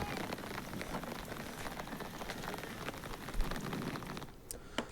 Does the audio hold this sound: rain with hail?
yes